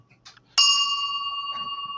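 A small bell fitted to a modified Warhammer model vehicle gives a single bright ding that rings on and slowly fades, after a few soft clicks and handling noises.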